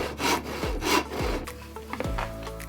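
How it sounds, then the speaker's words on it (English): A handsaw cuts through a wooden board while building a bird table, several close rasping strokes in a steady back-and-forth rhythm, each ending in a short scraping thud. "Next, secure the board and cut it with the handsaw."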